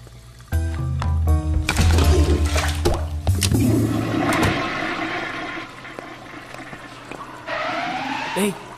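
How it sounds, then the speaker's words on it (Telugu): A toilet flushes in a film scene with a loud, rushing gurgle of water that gradually fades, mixed with voices and other background sounds. "లెట్రిన్ లో పెట్టి నీళ్లు కొట్టారా"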